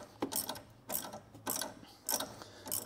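A ratchet fitted with a 15mm socket undoes a steering arm nut on a Ford Fiesta MK5, clicking in five quick, evenly spaced bursts, close up and fairly quiet, with no speech.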